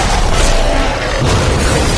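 Explosions boom loudly and continuously as Selene fires on attacking Lycans in the Underworld film finale, a dense roaring blast with layered bursts and no clear gaps.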